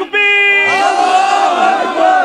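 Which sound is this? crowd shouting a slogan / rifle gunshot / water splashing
crowd shouting a slogan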